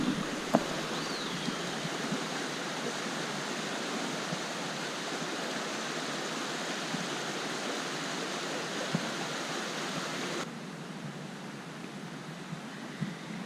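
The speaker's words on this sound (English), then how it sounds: "but crossing this creek is really nice" A creek running high after days of heavy rain gives a steady, even rush of flowing water that goes on without a break and is heard from nearby. It gets a little quieter toward the end.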